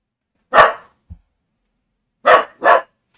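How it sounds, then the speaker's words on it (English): A dog barks in three loud, close, sharp bursts, one single bark followed by a pause and then a quick double bark, with a faint short sound between and no voices. "this dog's just barking like crazy"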